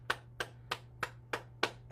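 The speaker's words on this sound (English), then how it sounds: "Clap your hands." A single person claps their hands during a self-care morning exercise session, giving seven sharp, evenly spaced claps about three per second. A steady low hum runs underneath.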